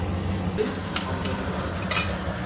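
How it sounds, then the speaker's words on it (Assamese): A spoon turns a pot of rice on the stove, with a soft low simmering rumble beneath and a few short scraping clinks against the metal, close and moderately quiet, no talking. "এইখিনি অলপ ওপৰতল কৰি দিওঁ"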